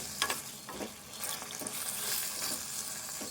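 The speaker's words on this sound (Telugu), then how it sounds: "ఇప్పుడు ఈ టమాటాను ఫ్రై చేసుకోవాలి" Tomato frying in oil in a pan, a soft steady sizzle with faint stirring scrapes, close and moderately quiet with no voices.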